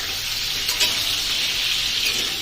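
Pointed gourd (potol) frying in a pan with a little salt, for a milk-and-cashew potol curry: a dense, steady sizzle close by with faint stirring scrapes, no voices.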